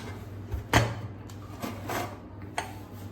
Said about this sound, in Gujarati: હવે આપણે કુકરનું ઢાંકણ બંધ કરી લઈશું.